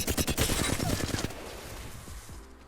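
A Flatline assault rifle fires from the hip in Apex Legends as one loud, rapid, sustained automatic burst of evenly spaced shots. The burst stops and leaves a decaying echo tail.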